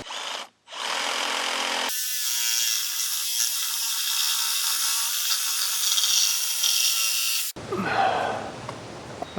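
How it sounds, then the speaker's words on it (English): A power saw fitted with a backward-mounted blade cuts wood on a chicken coop roof, one long steady grinding run preceded by a brief start and followed by a rougher burst, close and loud, no speech. "I put the blade in the saw backward because I think it'll help me get closer."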